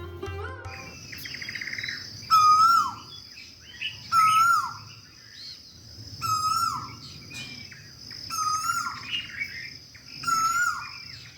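A koel calls repeatedly outdoors, about six clear whistled notes spaced evenly a couple of seconds apart, over a steady shrill buzz of insects.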